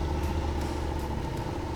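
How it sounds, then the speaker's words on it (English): Motorcycle engine running at low speed under steady clutch control, a continuous, even drone with a steady low hum, fairly close and alone with no talk. "So we can hear the consistency in the engine now"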